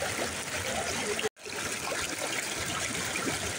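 Continuous rushing of a waterfall stream flowing down hillsides at Kasipatnam falls, a steady broadband wash with one brief moment of silence partway through.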